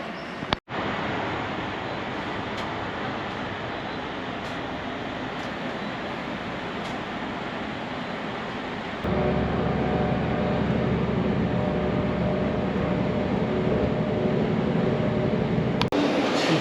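Steady rumble of a train at a railway station in Germany, a broad continuous roar that grows louder and deeper partway through, with no voices.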